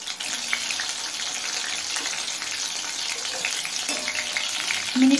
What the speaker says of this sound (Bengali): এবার এই মাছটা তেলের মধ্যে দিয়ে দেব।